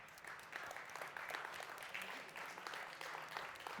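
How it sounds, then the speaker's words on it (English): An audience at a startup pitch event claps steadily for a few seconds as a speaker is invited on stage, a dense, even patter of hands in a hall. "Please, round of applause."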